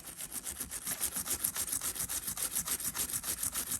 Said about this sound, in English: They tend to get a bit gummed up, so I give them a good scrub out